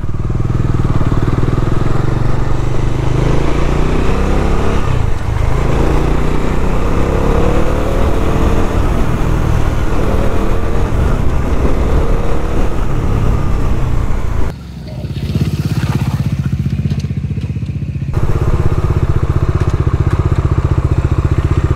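A modified Bajaj Dominar 400 motorcycle ridden hard with a loud, close engine roar and rushing wind, then a sudden drop as the brakes are tested and the engine settles to a lower drone, with a rider talking.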